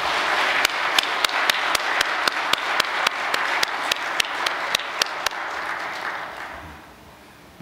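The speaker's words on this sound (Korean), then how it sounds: "크게 감사의 박수를 한번 올려드리겠습니다" Audience giving a round of thankful applause at a welcoming address, broad sustained clapping with sharp rhythmic claps standing out roughly every third of a second, then fading away near the end.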